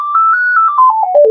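A single soloed operator tone from a Kodamo EssenceFM FM synthesizer, a pure sine-like pitch repeated in short pulses that step downward over about a second and a half, loud and clean with no voice.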